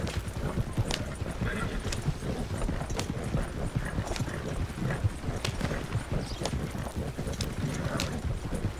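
Horse hooves galloping on a long ride toward Rhodes in the video game Red Dead Redemption, a continuous, rapid clip-clop at a steady pace, fairly loud and unbroken throughout.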